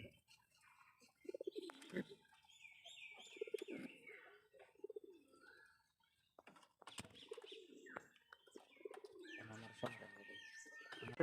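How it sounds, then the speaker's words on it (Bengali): Paired lesser pigeons in a cage coo repeatedly in soft, rolling bursts near the microphone, with chirps and brief rustling between, and someone talks over them at times. "এই দুই জোড়া কবুতর হচ্ছে লেসার জোড়া"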